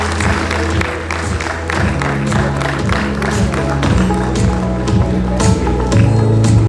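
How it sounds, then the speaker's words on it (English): An audience at a PGDM course inauguration at ISBR college claps steadily over background music, a busy patter of many hands lasting several seconds. "Huge round of applause, guys."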